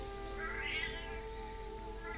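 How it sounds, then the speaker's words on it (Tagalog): A cat meows once, quietly and somewhat distant, over a steady low hum. "Pusa tong sumasagot dito."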